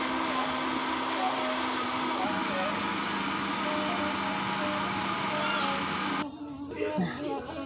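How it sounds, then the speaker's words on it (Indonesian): A kitchen blender grinds spices with a little water in a steady, loud whirring drone that cuts off near the end, leaving quieter handling sounds. "kita masukin juga ke blender ini, dan di blender sekalian sama bahan-bahan tadi"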